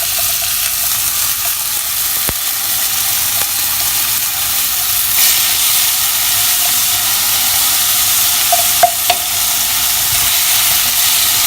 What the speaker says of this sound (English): I'm going to just fry it for some time so that the onion becomes translucent